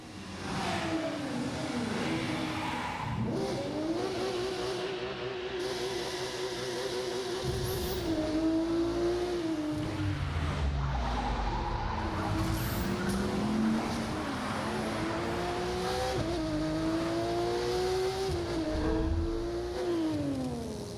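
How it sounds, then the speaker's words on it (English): Cars race, rev and skid across rooftops and asphalt in a Need for Speed video game trailer, with roaring engines sweeping up and down in pitch and tire squeals over a dense, continuous backdrop of music. "Skidding on rooftops, burning asphalt."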